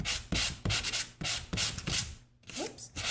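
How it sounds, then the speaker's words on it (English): Rhythmic scratchy strokes of a sanding block rubbed over printed paper card images, close and fairly loud, about eight back-and-forth passes with a brief pause near the end. "I actually want to sand this, and we have a great sanding kit, and all you're doing is going right over the images."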